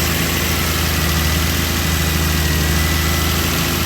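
A car engine held at a raised idle by a screwdriver wedged into the throttle runs at a steady, loud, close throb with constant vibration and no change in pitch.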